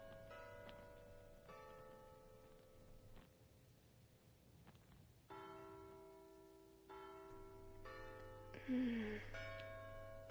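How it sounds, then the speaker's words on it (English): Church bells ring out with sustained, overlapping tones that swell and fade, heard at a moderate distance with a low hum beneath. "can you hear the church bells?"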